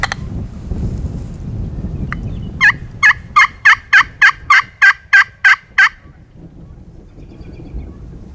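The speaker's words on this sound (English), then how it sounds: "Just a random gobble out of the blue." A wild turkey on open Nebraska public land lets out a quick run of about nine sharp, rhythmic gobbles, clear and fairly close, over faint background rumble.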